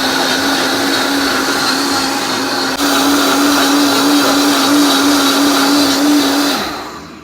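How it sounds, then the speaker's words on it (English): A blender runs steadily and loudly on Hatch chili hot sauce, its motor holding one high whine for several seconds before briefly dipping, then winding down at the end. "So we're gonna blend this now until it hits"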